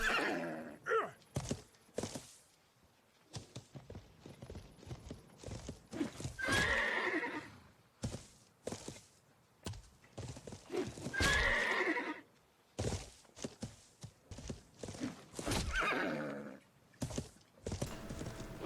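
Horses whinny and neigh repeatedly over clattering hoofbeats in the medieval game Life is Feudal, where mounted cavalry is being hit by a guard in combat; the calls come loud and close with bursts of galloping between them.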